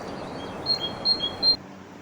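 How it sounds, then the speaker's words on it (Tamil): A hornbill gives three or four high, thin call notes spaced about half a second apart, clear over a soft steady background hiss. "ஹார்ன்பில்"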